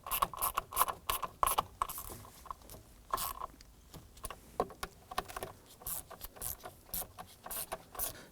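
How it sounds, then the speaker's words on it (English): Quick ratchet clicks as bolts on a 2015-2020 Ford F-150 ignition switch are snugged down, a rapid run of close, crisp mechanical ticks in short bursts with brief pauses. "use our ratchet to snug them down"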